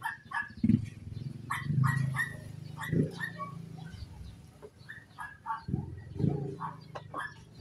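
Dogs bark in short repeated bursts at a moderate distance, with irregular gaps between the barks.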